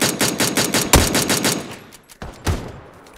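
Rapid gunfire in Hunt: Showdown, a fast burst of about a dozen evenly spaced close shots with a heavier report in the middle. The burst stops abruptly, and two more isolated shots follow after a short pause, loud and crisp.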